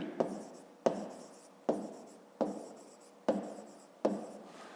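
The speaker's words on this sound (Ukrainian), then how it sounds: "Пишемо EDF" Chalk or marker writes letters for a geometry lesson on a board: six firm, evenly paced strokes, each starting with a sharp tap and fading into a short scratch, close and clear with no talking.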